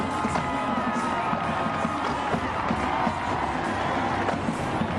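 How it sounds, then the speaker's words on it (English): A large crowd at the Rose Parade cheering and shouting steadily during a flyover, a dense roar of many voices across the whole stretch. "listen to the crowd in the background"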